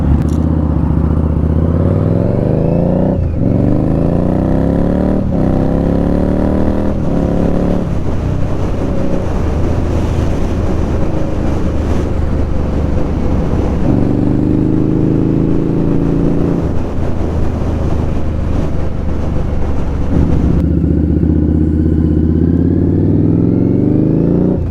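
An Indian Scout Bobber motorcycle rides on UK roads, its engine loud and close throughout with repeated rises and falls in pitch as it accelerates and shifts through gears.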